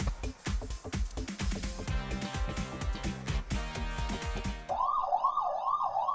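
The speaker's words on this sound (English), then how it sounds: "And boy, sirens." Siren sound effect from the video game AI: The Somnium Files nirvanA Initiative, loud and continuous over game music, rising into a clear repeating wail near the end.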